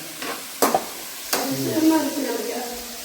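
Tomatoes and green chillies sizzle in a pan for a conch-meat curry, with a couple of sharp spoon scrapes as they are stirred, close and steady, and a voice briefly in the background.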